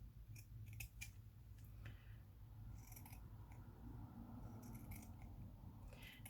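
Crimping scissors snipping along the edges of a piece of felt, a quiet series of short, crisp cuts in irregular clusters over a soft low background hum.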